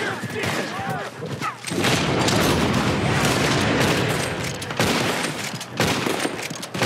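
Gunfire in the Red Dead Redemption 2 video game, a dense, loud barrage of shots and booms with a lawmen shootout continuing throughout, close and sustained, with someone talking at times over it.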